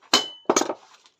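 An open-end wrench clinks sharply against a metal car part twice, a bright ringing strike followed by a second, rattling knock that fades quickly, close and alone.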